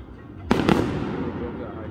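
Fireworks on the night of July 3rd at a summer camp: two sharp, loud bangs close together, followed by a long rumbling echo that slowly fades, with voices in the background.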